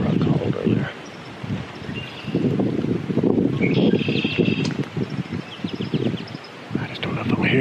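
Wind gusts through the woods during a spring turkey hunt, rushing and buffeting close to the microphone, with rustling leaves and a few faint bird chirps in the background.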